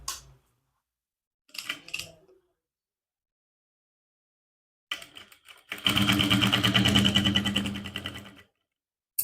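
A sewing machine stitches trouser fabric with a coarse basting stitch, first in brief isolated taps, then in a steady run of about three seconds, close and clear.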